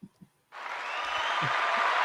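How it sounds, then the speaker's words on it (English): Studio audience applause starts abruptly after a brief pause and builds into a steady, loud wash of clapping, with a few faint low thumps underneath. "Our audience seems to like to stop quick clapping suddenly for some reason"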